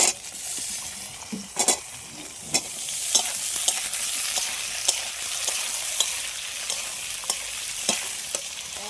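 Brinjal added to lightly fried potatoes in a pan gives a loud, continuous oil sizzle with repeated sharp spatula scrapes and taps as the pieces are stirred, close up and without speech.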